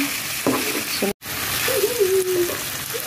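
Banana pieces stirred in a frying pan while cooking adobo chino, with a soft steady sizzle and short scraping stir sounds, close and moderate in level, with a brief dropout partway through.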